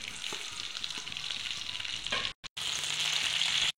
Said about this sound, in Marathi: तेलामध्ये व्यवस्थित भाजून घ्यायची।